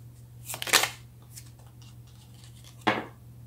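Tarot cards shuffle in a quick riffling burst near the start, then a single crisp flick as a card is pulled, over a quiet room hum.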